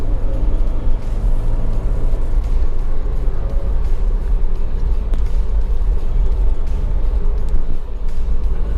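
A Mercedes-Benz E220 W124 Estate drives smoothly along a road through a bend onto a straight, giving a steady, loud low engine and road rumble that continues without a break.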